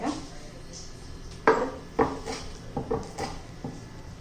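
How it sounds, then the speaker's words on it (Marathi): Green chillies being chopped with a knife for a spicy curd chilli dish, a few sharp knocks on a board standing out at irregular intervals over faint background noise, with no speech. "आता सर्व मिरच्या अशा चिरून घेते"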